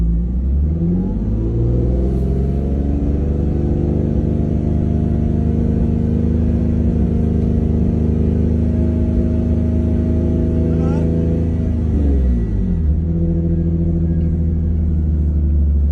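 A car with an aftermarket catback exhaust revs up and holds a steady high idle near 3,500 RPM, a loud continuous engine drone with harmonic tones, then drops off as the throttle is released near the end.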